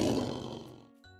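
A lion gives a single deep, loud roar that fades away, followed by a brief low grunt, close and alone.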